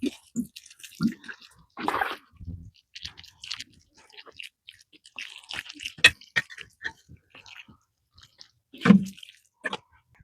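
Pea seeds newly planted in a cool-weather spring garden being lightly watered in, soft intermittent splashes and drips on soil in short irregular bursts, close and fairly quiet.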